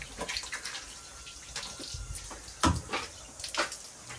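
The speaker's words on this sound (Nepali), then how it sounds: "ल यो हात धोयो" Hands are washed under running tap water, with soft splashes and trickling in irregular bursts, close and fairly quiet, with no talking.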